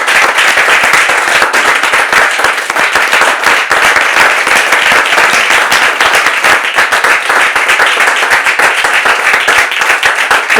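Studio audience applause greets a guest walking onto a French talk show set, dense, loud and continuous clapping filling the whole stretch without letup.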